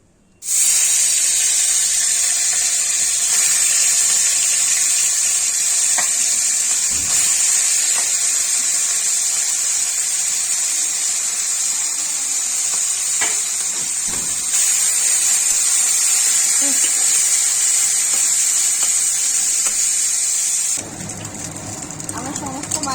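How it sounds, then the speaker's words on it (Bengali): Small kachki fish frying in hot oil in a kadai for a potato chorchori, a steady loud sizzling hiss running nearly unbroken throughout, dropping to quieter crackle near the end. "বাকি মাছগুলো এবার ভেজে নেব"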